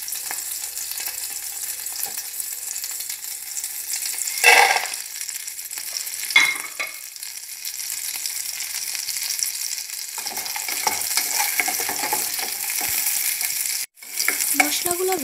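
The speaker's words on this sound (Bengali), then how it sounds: "এবার সবগুলো গরম মশলা দিয়ে আমি একটু ভেজে নেব।" Whole garam masala spices fry in butter in a hot pan with a steady close sizzle. A few louder bursts of stirring and scraping break through, and the hiss grows toward the end.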